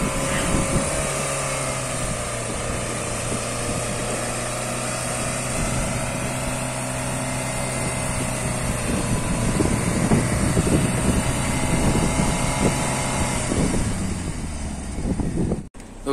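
An SUV engine straining steadily uphill on an off-road recovery track, pulled up slowly by a winch, with a continuous loud drone under wind noise.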